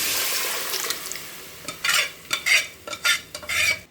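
Cooked dal goes into a pan of moringa curry and gets stirred, a soft hiss giving way to several loud, wet scraping strokes of a spoon against the pot, close up and without talk.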